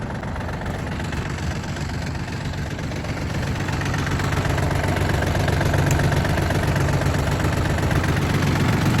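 The engine of a 24-horsepower Yanmar RS-24 Japanese mini tractor idles with a steady, close, low diesel chug and a slight knocking rhythm that holds even throughout, with no voices.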